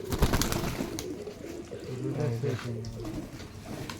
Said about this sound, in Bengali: মাশাল্লাহ, এক জোড়া লাল সুন্দরী কবুতর।